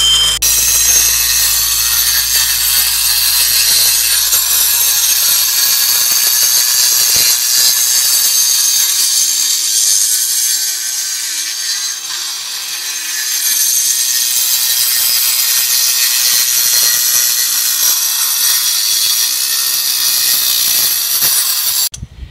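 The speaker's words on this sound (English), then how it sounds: "Sawing is done." A loud, continuous power saw at a fossil-collecting site whines and buzzes at a steady high pitch, grinding on for a long stretch with slight dips in intensity.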